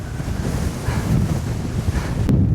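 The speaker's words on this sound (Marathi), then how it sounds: "आयो एवढी जास्त हवा आहे का नाही" Strong wind gusts buffet the microphone high on Bhairavgad fort, a continuous loud roar with rumbling low-end bursts and no break, heard alone.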